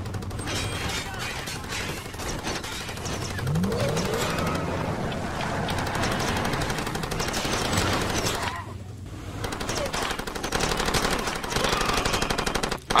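Rapid automatic gunfire from a weapon in the video game Far Cry 2 rattles in dense bursts across most of the stretch, loud and close, pausing briefly near the end before firing resumes.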